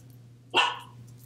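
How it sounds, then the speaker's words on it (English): A single sharp dog bark comes from just outside a closed room, brief and moderately loud against a quiet indoor hum. "I don't know if you heard him bark just now."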